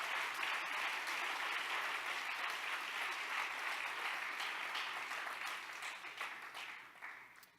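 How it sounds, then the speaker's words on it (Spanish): Audience applause at a church service, a steady wash of clapping from the congregation that holds evenly and then fades out toward the end. "Denle un fuerte aplauso de alabanza a Jesucristo."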